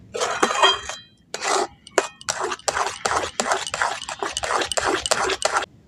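Semolina for modak is stirred and cooked in a pan, heard as close, irregular bursts of a utensil scraping and clinking against the metal, separated by short pauses.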